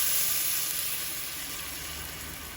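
Broth poured into a hot pan after browning a pot roast: a loud, dense hiss of sizzling right up close that fades gradually over a few seconds, with no talk.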